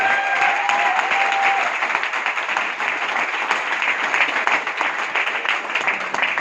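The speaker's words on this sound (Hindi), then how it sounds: "ऐसे हमारे ग्रेट डायमंड एसएन चौधरी साहब के लिए जोरदार तालियां होनी चाहिए" Strong audience applause for a speaker at a motivational event in Virar, a dense continuous wash of many hands clapping at an even level for several seconds.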